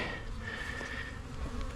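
Honeybees at a small, weak hive give off a steady close buzz with a few faint knocks mixed in.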